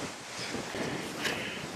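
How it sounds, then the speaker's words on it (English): Gusty wind blows across an open agricultural field, a brief, broad rushing noise with buffeting against the microphone and no voices. "It's really windy out."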